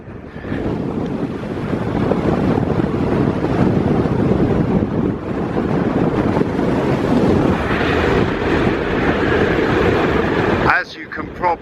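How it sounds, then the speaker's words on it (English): Strong wind blusters across a hilltop, roaring loud and steady into the microphone with heavy buffeting for over ten seconds before briefly dropping away near the end. "it is so windy up here"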